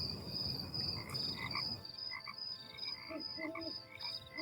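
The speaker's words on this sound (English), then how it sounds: "That's a frog." Frogs croak at night in GTA V, a chorus of repeated bubbly croaks over a constant high insect-like trill, rumbly noise at first then clearer calls.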